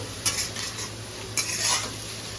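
Egg, capsicum and onion stir-fried in a hot pan: two quick scraping stirs of a spatula against the pan over a low, steady sizzle, close and alone.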